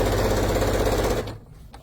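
A sewing machine running a half-inch seam in soft cuddle fabric makes a steady, rapid, close mechanical hammering for over a second and then halts abruptly, followed by light handling clicks.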